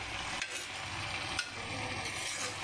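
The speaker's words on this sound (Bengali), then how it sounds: "তারপর আমাদের একটু পানিটা শুকিয়ে নেওয়ার জন্য হালকা আছে একটু নেড়ে চেড়ে দিতে হবে" Mixed winter vegetables such as cauliflower are stirred in a pan to dry off their water, giving a steady soft sizzle with scraping strokes of a spoon. Louder scrapes come at intervals, and no one speaks.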